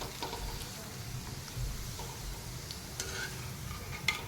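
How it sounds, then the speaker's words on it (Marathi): Sago and potato papad fry in hot oil with a steady, moderate sizzle and a low bubbling rumble, with occasional light clinks and scrapes of a utensil. "तेल व्यवस्थित गरम झाल्यानंतर पापड टाक टाकून तळून घ्यायचा आहे"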